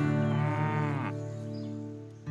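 A young male dairy calf on a farm gives one drawn-out, harmonic moo lasting about a second, close to the microphone, and then falls quiet, leaving soft background noise.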